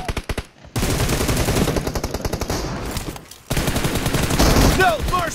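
Rapid automatic gunfire from a video game team deathmatch, loud bursts of machine-gun fire with a brief pause, then more shooting mixed with game sound effects.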